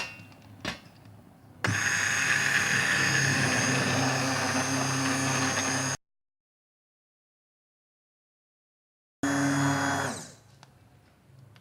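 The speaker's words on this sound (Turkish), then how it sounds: "çorbamızın malzemeleri yumuşadığı hemen mikserle çırpıyoruz" An electric hand blender whirs loudly and continuously while pureeing softened lentil soup, cutting off abruptly, then restarting briefly before winding down.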